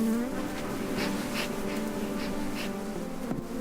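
Honey bees buzz around hives in a beekeeping yard, a steady dense hum that continues without a break, with a few faint knocks and rustles on top.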